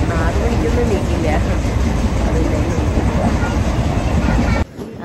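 A train at a railway station in early-morning darkness, a loud, steady rumble with clickety-clack running throughout before cutting off abruptly near the end.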